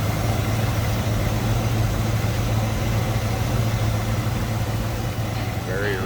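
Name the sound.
1968 Ford Mustang Sprint engine idling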